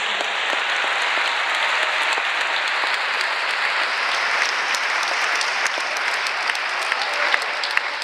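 A church convention congregation gives loud, sustained applause for the Lord Jesus, a steady even wash of many hands clapping with no break.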